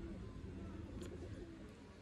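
Pigeons cooing softly at a distance, faint low murmurs over a steady background hum, with no clear speech.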